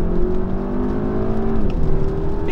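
VW Passat R-Line with a 272 hp four-cylinder petrol engine, about 1700 kg, accelerating: a steady, moderately loud engine drone with a slightly rising tone heard from inside the car.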